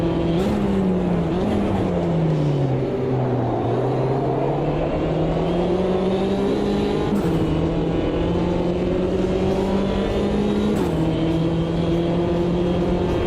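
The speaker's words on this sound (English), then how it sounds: "drivers revving up to make a move on me" Race cars in the Automobilista 2 sim racing game on the Buenos Aires track, engines droning and revving continuously with rising and falling pitch, several cars layered close together and loud throughout, with no talk.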